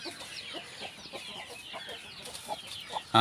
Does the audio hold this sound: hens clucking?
yes